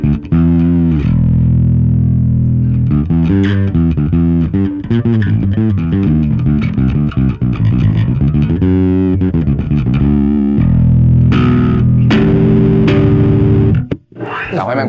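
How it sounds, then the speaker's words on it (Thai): Loud distorted bass guitar notes through a Fender Rumble Studio 40 bass amp's distortion effect, gritty and overdriven, played in runs and held notes, nearly continuous with a brief drop near the end. "อันนี้เป็นเสียงแตก"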